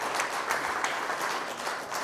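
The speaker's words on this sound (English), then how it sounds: "So I think that in itself deserves a round of applause." Audience applause at the solar boat race in Monte Carlo, honouring the DUT solar boat team: a steady wash of many hands clapping, fairly close, with no talk over it.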